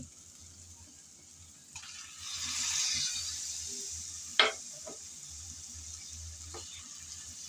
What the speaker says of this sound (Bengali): ফুলকপি দিয়ে আবারও আমি নেড়ে চেড়ে একটু কষিয়ে নেব